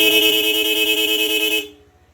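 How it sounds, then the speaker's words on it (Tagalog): An aftermarket speaker horn on a QJ ATR 160 motorcycle blares one loud, shrill, steady note for about a second and a half, then cuts off abruptly. "Speaker horn."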